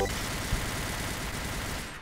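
Rapid gunfire from the Point Blank online shooter game, a dense continuous burst of shots at a fast fire rate, loud and steady throughout with no pause.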